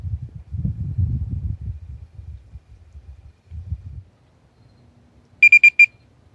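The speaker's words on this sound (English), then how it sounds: "I'm getting a couple of indications on my alarm." A carp fishing bite alarm on the rod gives four quick electronic beeps, loud and close, after a stretch of low rumbling handling noise by the water, with no talking.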